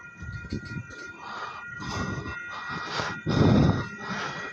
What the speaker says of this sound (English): I hear those wheels creaking.